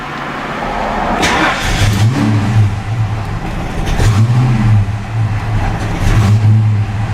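A Ford Fox Body car with a suspected bad fuel injector, already warm, cranks and fires, then idles loud and close with a rough, uneven pulse and a few small rises in revs.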